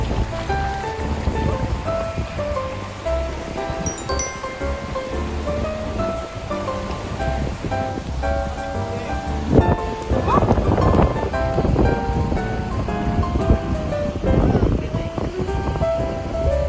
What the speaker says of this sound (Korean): 이 파도가 와서